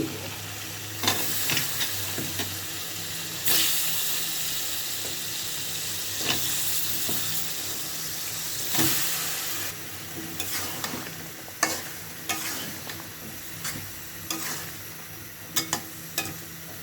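Vegetables for a curry frying in a pan, a continuous sizzle and hiss broken by repeated scraping stir strokes and sharp spatula knocks, close and alone without speech.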